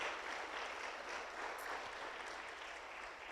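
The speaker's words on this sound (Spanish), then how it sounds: "Dele palmas." A church congregation claps at an Easter Sunday service: a steady, fairly faint wash of many hands heard at a distance, uniform throughout without talk.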